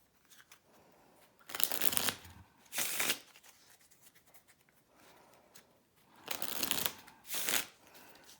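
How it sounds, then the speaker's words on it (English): Playing cards with a linen finish being shuffled, several quick riffling bursts separated by short pauses of quiet handling, close and fairly soft with no talking. "Now you're going to start off, you're going to shuffle the cards up."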